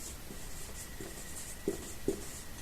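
Quiet handwriting on paper during a Hindi-language class 10 maths lesson: soft scratching strokes with two slightly sharper taps near the end, close and faint, with no talking.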